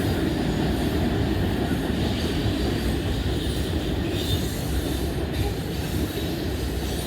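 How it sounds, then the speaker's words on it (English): Freight train of boxcars, gondolas, tank cars and reefer boxcars rolling past at Oak Harbor, Ohio, a loud continuous rumble of wheels with faint clicking, steady and close throughout. "Some boxcars, gondolas, tanks. Reefer boxcars there."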